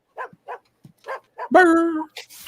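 Dog barking in the X-Files episode Humbug: several short, evenly spaced barks followed by a longer whining yelp near the end, close and clear against a quiet background.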